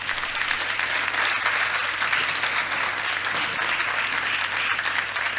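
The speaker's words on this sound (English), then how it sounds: "Let's give a big round of applause." A climate solutions conference audience gives sustained applause, a broad, even wash of many hands clapping at moderate level across the hall, with a low steady hum beneath.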